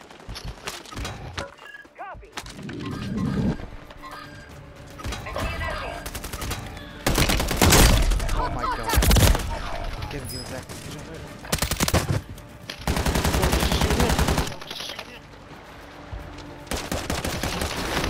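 Gunfire in a video game: repeated bursts of automatic fire and scattered shots at varying loudness over a continuous battle din, with voices talking throughout.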